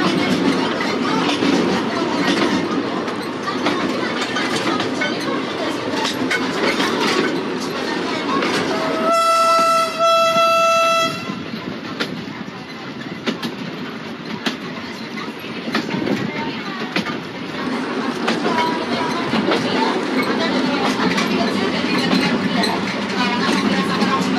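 A century-old train rides the rails between Ambarawa and Tuntang, a loud continuous rumble and clatter of wheels with a sustained horn blast partway through; voices are faintly present beneath the noise.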